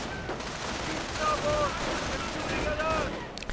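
Continuous gunfire rattles through a real-time strategy battle in which massed grenadiers and Volksgrenadiers fire on riflemen, a dense steady volley of shots heard at mid-distance with a commentator talking over it.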